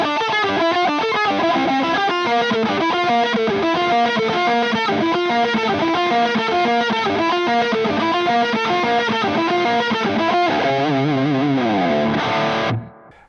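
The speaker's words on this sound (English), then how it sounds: "if you just turn on the delay, that's the exact sound that's what's on the record as well." Heavily distorted electric guitar through a Mesa MkV:25 amp with delay, playing a fast chugging metal riff loud and up close, then a ringing sustained chord fading out at the end.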